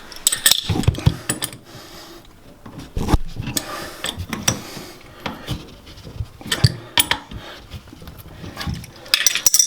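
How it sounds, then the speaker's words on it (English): Two adjustable wrenches tightening a compression nut while replacing a water shut-off valve, giving irregular metallic clicks, clanks and scrapes in close, uneven bursts with no talking. "We're going to be using 2 adjustable wrenches."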